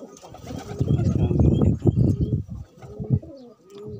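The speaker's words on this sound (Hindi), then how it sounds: "ये कबूतर है आप देख सकते हैं देसी कबूतर की पहचान" Desi pigeons coo close by, a cluster of deep, throaty rolling calls in uneven bursts, loud at first and then tapering into quieter, sparser coos.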